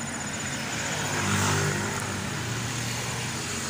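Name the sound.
many passing vehicles, noisy traffic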